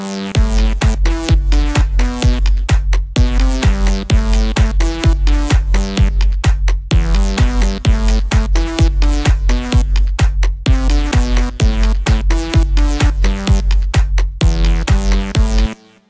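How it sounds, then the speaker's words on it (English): A synth part played on the Vacuum synth in Pro Tools loops a steady, rhythmic pattern of bright repeating notes over a constant low bass pulse, loud and alone without any talk throughout. "And I'm using the vacuum synth right here."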